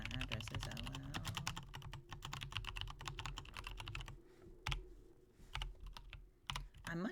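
Close, quiet typing on a computer keyboard during a home coworking stream, a rapid irregular run of light key clicks that thins into sparser, scattered taps and a few firmer strokes near the end.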